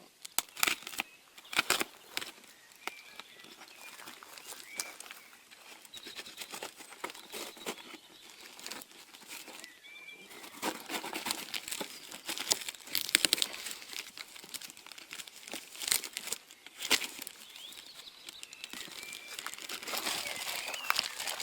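Shoe packaging for SEEKWAY water shoes is cut open and handled, giving soft, continuous crinkling and rustling of paper or plastic with irregular bursts, close and fairly quiet, without speech.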